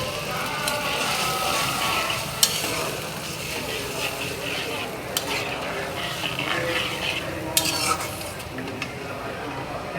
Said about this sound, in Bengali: এটা ভালো করে একটু কষাই নিতে হইব মশলাটা।